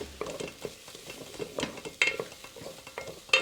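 Garlic sizzling in a hot pan while a spatula stirs and scrapes it around, giving steady frying crackle broken by irregular metallic clinks and scrapes, close up and with no talking.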